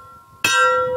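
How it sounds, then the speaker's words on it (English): A single bright bell ding for a subscription notification strikes sharply and rings on with a sustained shimmering tone, close and clear, with nothing else sounding. "give that notification bell a little ring"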